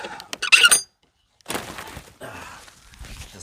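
A door on a high tunnel greenhouse squeaks sharply as it is pulled open on a bitterly cold winter day, a brief bright creak followed by a pause and then soft rustling and shuffling movement nearby.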